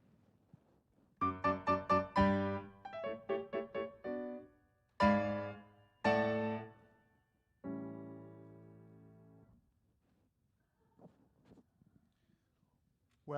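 Solo piano plays the closing passage of Mozart's Fantasy as printed in its first edition, which lacks the final ten measures: a series of separate chords and short phrases with pauses, ending on a long sustained chord and then quiet.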